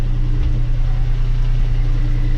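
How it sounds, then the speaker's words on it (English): A sailboat's engine runs at anchor with a loud, steady, close-up idling drone and a low rumble, holding even throughout with no other sounds. "So this is when we cut the engine"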